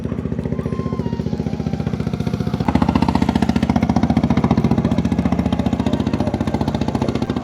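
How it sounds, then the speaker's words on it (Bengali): An engine-powered trawler boat moves across calm water, its motor chugging in a steady rapid rhythm close by, growing slightly louder partway through with faint clatter underneath. "শান্ত জলের বুক চিরে চলা ইঞ্জিন চালিত ট্রলারের মৃদু শব্দ"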